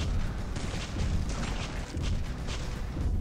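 Dense, rumbling explosions and burning in the zombie combat game Dead Ahead: Zombie Warfare, a loud continuous roar of booms with no speech.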